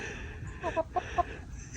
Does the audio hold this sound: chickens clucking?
yes